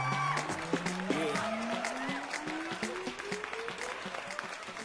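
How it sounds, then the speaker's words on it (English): An audience at a singing competition applauds the judges, with a run of scattered, moderately loud claps over a rising musical tone and a faint background hum. "A round of applause for our judges."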